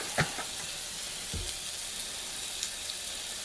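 Scallops sear in oil in an already hot pan, giving a steady soft sizzle and hiss with a couple of brief crackling pops, fairly quiet and close, no talking.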